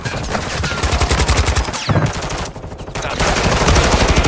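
Sustained rapid automatic gunfire in Call of Duty Warzone 2.0, loud and dense bursts nearly continuous, with a brief gap near the middle before the firing resumes heavier.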